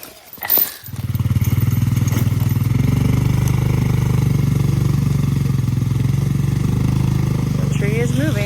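A Polaris utility vehicle engine starts with a brief burst, then runs at a steady, loud, throbbing idle close by outdoors among cedar timber, with people talking briefly over it.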